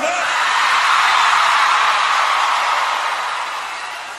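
Concert crowd at Luna Park in Buenos Aires yelling and cheering, a dense, loud roar of many voices that swells and then slowly fades.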